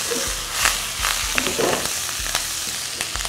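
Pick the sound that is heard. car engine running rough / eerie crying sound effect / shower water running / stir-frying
stir-frying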